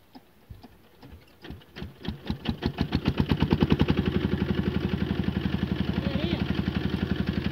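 A Stihl brush cutter engine starts up close: a few sputtering pulls and coughs that quickly settle into a fast, even putter that carries on steadily.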